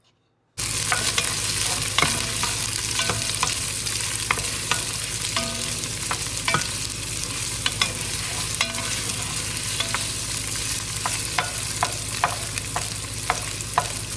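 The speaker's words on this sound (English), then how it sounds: "if I go ahead and cook my onions first, it just gives it more flavor" Onions fry in a pot for a Southern pot roast, a dense, steady sizzle and crackle close by, broken by frequent scrapes of the spoon against the pot.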